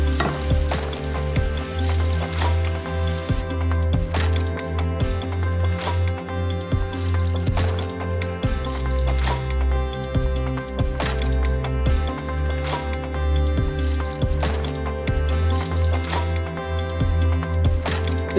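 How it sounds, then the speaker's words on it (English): Apple slices frying in about 25 grams of melted butter in a frying pan give a steady sizzle, with occasional stirring clicks over constant background music. "Melt about 25 grams of butter in a frying pan, it doesn't need to be exact, and then add the apple slices"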